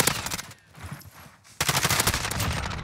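An MP5 submachine gun fires in the video game Modern Warfare, with a loud rapid burst, a brief pause, then a second sustained burst of close automatic fire.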